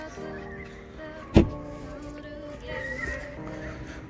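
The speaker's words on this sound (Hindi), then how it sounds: "आप देख सकते हैं शीशे मुड़ गए।" A 2021 Hyundai Creta locks with a sharp click, then its side mirrors fold in with a brief electric motor whir, heard close up with no talking.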